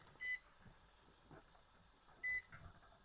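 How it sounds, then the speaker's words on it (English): An electric pressure canner sounds two short electronic beeps about two seconds apart, clear over faint background hiss, with no one talking. "it's beeping for us to go ahead and add, to turn this from vent"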